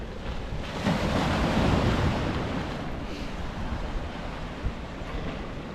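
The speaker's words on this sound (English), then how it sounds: "listening to the ocean splashing on the walls" Ocean waves splash and surge against the sea walls along the Tynemouth seafront, a loud, continuous roar of surf mixed with wind buffeting the microphone, with no voices.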